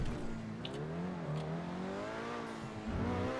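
A BMW E60 with an automatic gearbox in GTA 5 accelerates steadily, its engine note climbing and then dipping briefly near the end as it changes gear, heard close and continuous with no talking.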